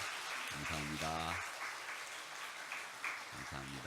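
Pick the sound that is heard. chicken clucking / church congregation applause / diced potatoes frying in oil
church congregation applause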